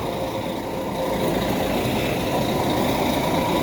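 A vehicle engine running steadily nearby, a constant low rumble with an even mechanical drone and no change in revs.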